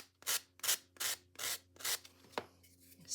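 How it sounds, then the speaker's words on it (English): Hand sanding a handmade craft Christmas ornament: six brisk, close rasping strokes in an even back-and-forth rhythm, each a short scratchy burst, with no talking. "If that were to bother you right here, then you just keep sanding"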